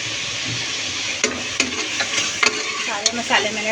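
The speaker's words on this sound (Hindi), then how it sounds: "सारे मसाले मैंने डाल दिए। ये अच्छी तरह से इसकी भुनाई कर लूँ।" Spices for a poppy seed and tamarind chutney roast in a pan under a soft sizzle, while a spoon stirs and scrapes against the metal in a few sharp, irregular clicks, close and fairly loud.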